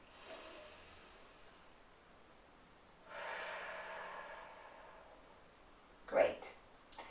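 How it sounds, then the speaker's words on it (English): Deep breath during a mindfulness exercise for violin players: a long soft inhale, then a fuller exhale of airy rushing, followed by a brief sharp snort-like breath near the end. "One more deep breath."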